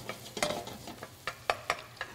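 Mushrooms cooking down in a pan for a Maine lobster sauté with pasta, heard as a few sharp stirring scrapes and light sizzle bursts spaced through a short, fairly quiet stretch with no talking.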